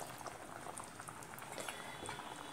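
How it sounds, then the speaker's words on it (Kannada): Ivy gourd and chickpea curry, Mangalorean style, bubbling in a pot, a faint, steady simmering gurgle close by with no one talking. "ಇದು ತೊಂಡೆಕಾಯಿ ಬೇಯ್ತಾ ಇದೆ."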